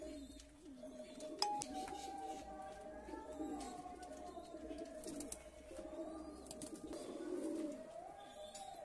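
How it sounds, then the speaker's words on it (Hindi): Kaldumi desi pigeon cooing in repeated soft, low, throaty phrases, close by, with someone talking over the calls. "भाई एक कालदुमी देसी कबूतर है"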